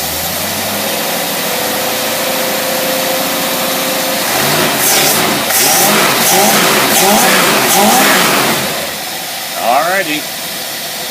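A small carbureted engine with a Motorcraft 2150 carburetor runs steadily, then revs up and down several times, loud and close; a voice briefly speaks near the end.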